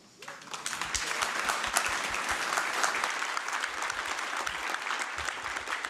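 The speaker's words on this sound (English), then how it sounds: "Will you just help me give him one more round of applause?" An audience at a marriage conference applauds after a talk, with many hands clapping in a steady, full round that begins sharply and stays even, somewhat distant in the hall.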